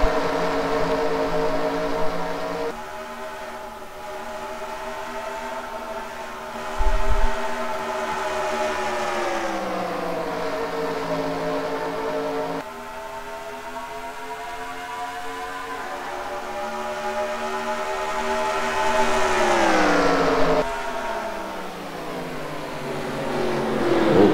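At the green flag start at Twin Ring Motegi in a racing video game, several race car engines drone together in layered, sustained tones that swell and sag in pitch as they accelerate and shift gears, with no talk.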